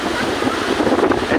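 Sea waves washing onto a beach, a loud continuous surf roar with heavy wind buffeting the microphone close up.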